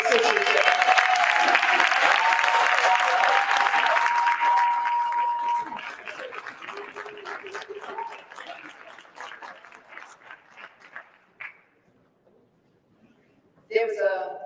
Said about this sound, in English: Let's give a round of applause to New York Attorney General Letitia James.